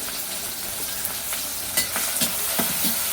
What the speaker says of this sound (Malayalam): ഉള്ളിയും തക്കാളിയൊക്കെ ഇട്ടിട്ട് അങ്ങനെ ഉണ്ടാക്കിയ നല്ല ടേസ്റ്റാണ്